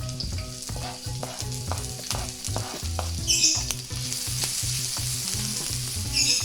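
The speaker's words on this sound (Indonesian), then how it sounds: "Kita goreng sampai halus" Sliced onions sizzle and crackle in a hot pan, a steady frying hiss with rhythmic scraping as they're stirred, frying for martabak telor.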